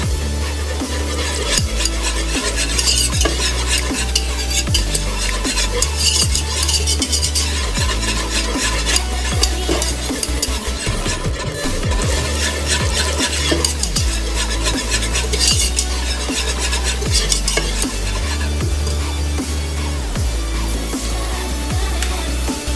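A flour and butter sauce base being whisked steadily in a pan for blanquette de veau, a dense, continuous scraping and stirring texture that runs without pause and without any talking.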